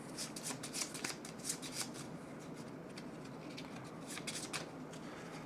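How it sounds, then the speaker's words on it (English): Cards for the board game Tiny Epic Dungeons are shuffled close up in a quick run of papery riffles and flutters, soft and steady, with no voices. "We'll shuffle these."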